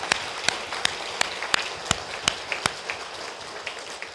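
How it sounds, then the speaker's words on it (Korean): A church congregation at an evening revival meeting applauds in encouragement, a string of sharp, evenly spaced claps over a soft hiss that thins out and fades toward the end. "수고하신 분들을 위해서도 격려의 박수 쳐주세요"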